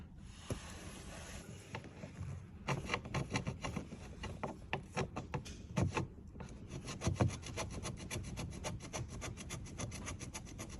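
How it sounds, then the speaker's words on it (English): Paint is sanded off a bare patch of a Ford Falcon FG chassis to make a good earth, a run of quick, close scraping strokes in a steady rhythm after a few scattered rubs, with no talk. "So we're going to sand off this part of the paint, so we can just put this and we'll get a better earth."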